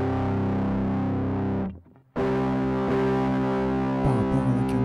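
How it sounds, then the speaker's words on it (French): Electric guitar power chords played through heavy distortion, a thick sustained chord ringing, a brief cut to near silence, then another loud distorted chord struck and held with a few re-attacks, no voices. "Donc si je mets la distorsion, ça va me donner un gros son."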